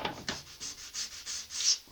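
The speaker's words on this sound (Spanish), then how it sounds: "queréis lijar un poco más" Sandpaper is rubbed by hand over a wooden desk being aged in vintage Nordic style, about eight close, rhythmic back-and-forth scraping strokes with no talking.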